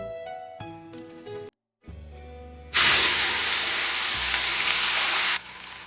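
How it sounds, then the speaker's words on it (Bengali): Snails dropped into hot oil in a wok burst into a loud, steady sizzle after a few quieter clinks and kitchen sounds, the frying hiss holding strong for several seconds before easing. "কড়াইটা বসিয়ে দিয়েছি আর তেলটা ভালোভাবে গরম করে নিয়েছি। এবার এর মধ্যে প্রথমেই দিয়ে দেবো গোগলিগুলো"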